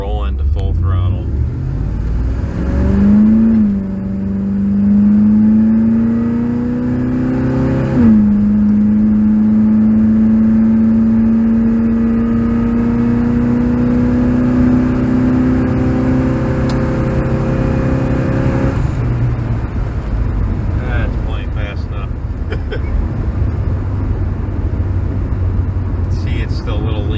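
A car engine fitted with Aces EFI fuel injection rolls into full throttle, its tone climbing and then holding a loud, strained drone for many seconds before backing off, close and continuous.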